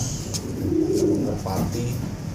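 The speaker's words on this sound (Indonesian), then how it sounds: "Merpati" Pigeon cooing nearby in soft, low, rolling coos repeated a few times, over a steady background murmur with faint chirps from other birds.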